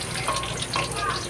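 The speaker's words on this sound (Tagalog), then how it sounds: "Okay, nag-ano na ko painit na mantika. Lalagay ko na yung bawang at saka sibuyas." Crushed garlic and onion drop into hot oil in a pan, giving a brief, close, crackling sizzle with bright spits that holds steady at moderate loudness.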